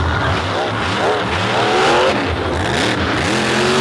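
A mud racing vehicle engine built by VZ Engines of West Virginia revs loud and close, its pitch climbing and dropping repeatedly in rough, crackling bursts over a steady roar.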